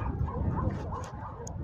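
Dogs bark and yip at a seaside dog park in Sai Kung, short scattered calls heard at a moderate distance over outdoor ambience, with no talk.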